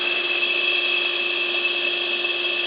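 A small electric motor on a half-bipolar circuit mod hums steadily at about 3,500 RPM, a close, constant whine with a fixed tonal pitch and no talk.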